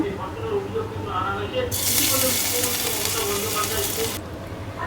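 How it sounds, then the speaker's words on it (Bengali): Chopped ginger hits hot oil in a pan where paneer was just fried, breaking into a bright, loud sizzle after a quiet start, holding steady for a couple of seconds before easing off. "এখন ওই তেলের মধ্যে আমি হচ্ছে আদা কুচি দিয়ে দেব"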